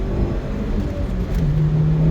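A Rover 25 GTI pulls away after a downshift, its engine note rising in a steady rumbling surge heard from inside the car, with a whirring tone climbing near the end.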